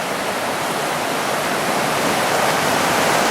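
A river in the Big East Fork area pours into a pool with a steady, broad rushing hiss, constant and close, with no voices or other sounds over the flow.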